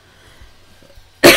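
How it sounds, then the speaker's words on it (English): A single sharp, loud cough right up close, bursting out after near silence with faint rustling. "I coughed."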